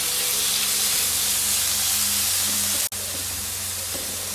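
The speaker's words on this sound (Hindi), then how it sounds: "अब हम इसमें चिकन जो है वो ऐड कर लेते हैं।" Chicken pieces fry in hot oil over a high flame, a loud, steady sizzling hiss that runs throughout, broken once by a brief sharp dropout.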